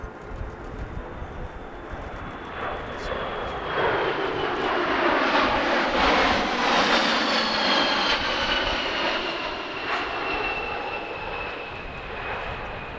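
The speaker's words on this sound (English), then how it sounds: "Canada's strategic airlifter is the CC-177 Globemaster" A Canadian CC-177 Globemaster strategic airlifter flies past at an airshow, its jet engines producing a broad, steady roar that swells toward the middle and then eases, with a rising whine layered on top and no voices.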